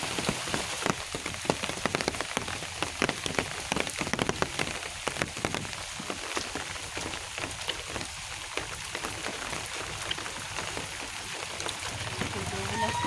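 Steady, heavy rain patters on a hard surface throughout, with faint voices muffled underneath.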